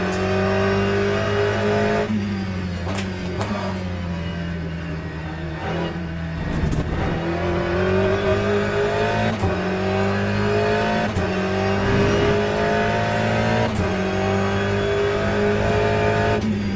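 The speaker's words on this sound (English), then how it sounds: "Somebody's coming. Porsche, Rexy." Race car engines in the video game Le Mans Ultimate with a Porsche GT3 approaching, a loud continuous engine drone with shifting revs, upshifts and harmonic sweeps throughout, no talking.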